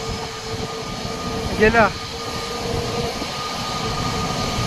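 At Mumbai international airport, an airliner coming in to land leaves a steady distant jet rumble and whine under the scene, with a short burst of speech midway.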